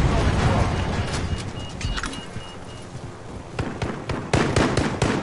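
Flares fired from a helicopter in the video game Warzone: a string of sharp pops and crackling bursts over a steady, loud rumbling background, with clusters of pops toward the end.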